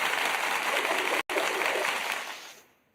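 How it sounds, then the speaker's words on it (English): A round of applause, a dense steady patter of many hands clapping with one brief cut midway, then tapering off toward the end. "I'm gonna give you a round of applause."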